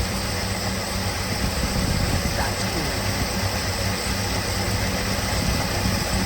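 A 1972 Plymouth Satellite Sebring Plus engine idles with a steady low rumble and constant background noise after almost three decades; a voice speaks briefly partway through.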